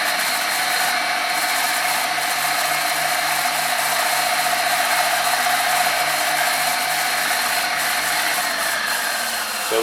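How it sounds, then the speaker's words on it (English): A power drill whines steadily and loudly through thin aluminium, a continuous high grinding drone with a faint rattling texture, no talking. "This drill is going to be loud, sorry about this now."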